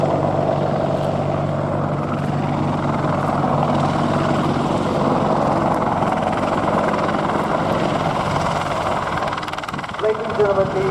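Steady, loud rotor and engine drone of a British Army Apache attack helicopter fills the clip at the RNAS Yeovilton International Air Day, with a public-address voice talking over it.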